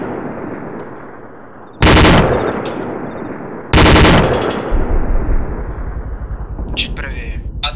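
Two loud, sustained bursts of DShK heavy machine gun fire in the video game ArmA 2, each about a second long, standing out over a steady battlefield background with people talking throughout.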